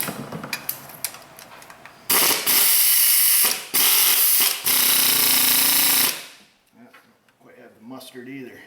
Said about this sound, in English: I better grab a bigger air ratchet.